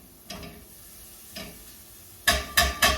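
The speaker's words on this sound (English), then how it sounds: "I'm just going to saute it to get that flavor out." A pan with a little garlic sauteing, heard as quiet crackling sizzle with a few soft stirring scrapes, then three louder close clattering knocks of a utensil against the pan near the end.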